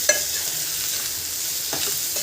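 Ginger garlic paste and turmeric sizzle steadily in a pan for a drumstick and dried prawn curry, a dense close frying hiss with a couple of soft stirring scrapes and no talking.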